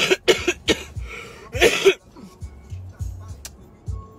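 A person coughs several times in short, harsh bursts while ill with a cough and flu, close to the mic, with quieter gaps and faint breathing between the bouts.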